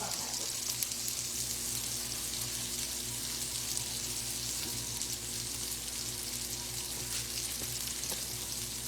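Sausages fry in a pan with a constant close crackling sizzle, a low electrical hum running steadily underneath.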